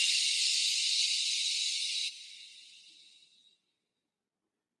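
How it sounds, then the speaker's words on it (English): A long, steady breath pushed out through the mouth as a breathy sh, loud and close during a yoga breathing exercise, gradually fading to silence. "And your exhale, maybe make a sh sound."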